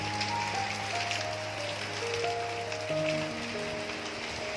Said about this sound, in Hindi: ये देखिए बाहर बहुत ही तेज़ बारिश हो रही है।